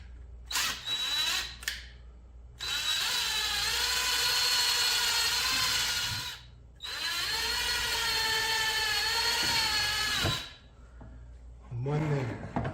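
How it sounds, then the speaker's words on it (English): A power drill bores thin guide holes for cup hooks in two long, steady, high whirring runs up close, each ending abruptly, with short handling noises and a brief voice around them. "You're going to need 2 drill holes for the cup hooks"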